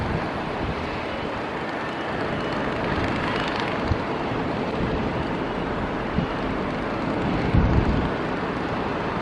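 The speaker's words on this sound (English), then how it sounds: "Starting to get a little breezy up here again." Steady wind roars across a microphone high above a stadium construction site, a constant broadband rush with gusty swells, heavier buffeting near the end, and no talk.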